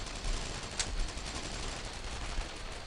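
Rapid gunfire in the World War II shooter Brothers in Arms: Earned in Blood, a dense, continuous crackling barrage with no clear gaps, loud and unbroken.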